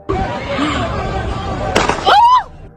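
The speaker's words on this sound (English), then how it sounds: "Anaya, without a second thought, fired the gun" Amid agitated voices, a single sharp gunshot cracks out, followed moments later by a brief high cry.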